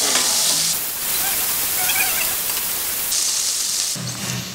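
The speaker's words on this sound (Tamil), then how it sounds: "வெங்காயம் வதங்கிடுச்சு," Onions sautéing in a pan for chicken biryani make a loud, continuous hissing sizzle like heavy rain, swelling and easing over a few seconds with no talk.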